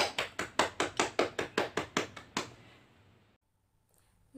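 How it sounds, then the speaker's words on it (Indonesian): Short burst of classroom applause for students, about a dozen loud, evenly spaced claps for two and a half seconds before it stops abruptly into near silence. "Kita beri tepuk tangan untuk kalian semua."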